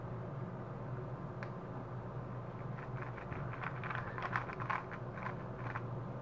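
Clicky, rapid plastic clatters of a Dayan TengYun M 3x3 speed cube being turned, bursts of quick turning sounds over a low background hum, fairly quiet and close, with no talking.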